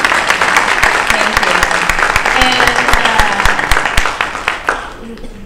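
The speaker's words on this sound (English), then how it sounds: "How about a round of applause for our panelists?" Audience at a parent support organization dinner at Oakwood Elementary applauds the panelists, a dense, sustained wash of clapping from a room full of people, with a voice speaking over it before the applause thins out and fades near the end.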